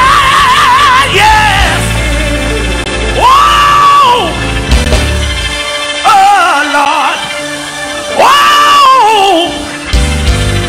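A church congregation screams and shouts in loud, rising and falling bursts of several voices. There are about four surges across the stretch, with quieter gaps between them.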